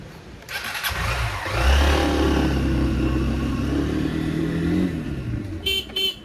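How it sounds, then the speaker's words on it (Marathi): A motorcycle engine starts up and idles with a steady mid-pitched rumble, then revs slightly before a few short clicks at the end; no voices. "आता मी बाईक घेऊन जातो डायरेक्ट लोकेशन"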